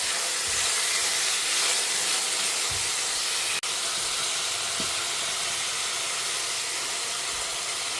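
Two medium-sized native tomatoes fry in a pan on a home stove for a Tamil wedding-day lunch, giving a steady, even sizzle and steam hiss throughout with no talking.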